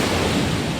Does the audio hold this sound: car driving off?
no